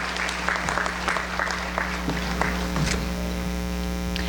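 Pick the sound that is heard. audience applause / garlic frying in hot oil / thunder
audience applause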